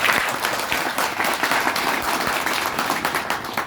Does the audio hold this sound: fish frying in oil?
no